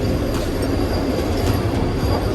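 A train rumbles steadily throughout, with a constant low roar of rolling wheels and faint rattling, close and continuous with no voices.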